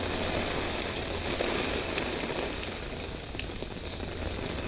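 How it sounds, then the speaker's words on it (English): Heavy, wind-driven rain lashing sideways outside a sheltered boat cabin in a cove, a steady dense hiss of drops without pause, heard muffled from inside. "That rain is just coming sideways."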